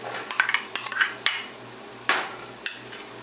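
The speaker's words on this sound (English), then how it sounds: "So we've got our onions and garlic working together in the pan." Onions and garlic fry in bacon grease in a pan, with a soft steady sizzle broken by a few sharp scrapes and taps as they are stirred.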